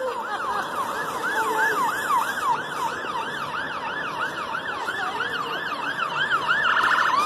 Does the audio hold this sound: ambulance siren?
yes